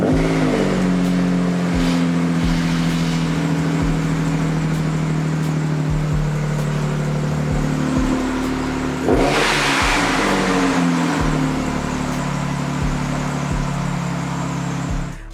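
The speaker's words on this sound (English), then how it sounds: "It started to run fine. And it makes boost noises." Turbocharged Nissan 350Z engine running and revving after a fuel-related fault that left two cylinders misfiring: continuous loud, close rumble with repeated throttle blips and a swelling burst of boost hiss midway.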